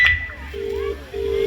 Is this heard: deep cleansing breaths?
no